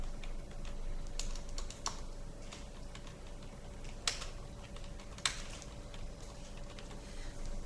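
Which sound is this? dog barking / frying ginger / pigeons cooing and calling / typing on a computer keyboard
typing on a computer keyboard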